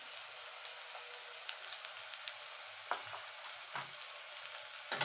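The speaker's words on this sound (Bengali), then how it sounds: "আলুটা ভাজা হয়ে গেছে" Diced potatoes frying in oil in a pan for a fish and eggplant curry, a soft steady sizzle with faint crackles and a few sharper stirring knocks, close and quiet, with no talking.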